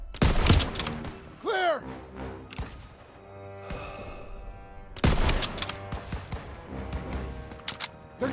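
Gunfire from a mounted MG in Call of Duty: WWII, fighting around a stronghold: several loud bursts of shots close by, broken by a whistling projectile and lighter battle noise, while voices call out over the combat.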